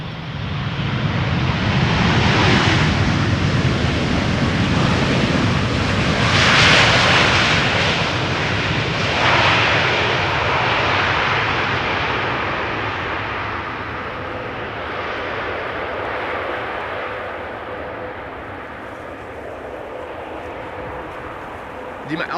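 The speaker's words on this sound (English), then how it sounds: "This is KLM Flight 741, 7879 Dreamliner arriving from Cartagena." A Boeing 787 Dreamliner airliner roars loudly and steadily as it passes close by on arrival at Schiphol, its broad engine rumble swelling early on, then slowly easing.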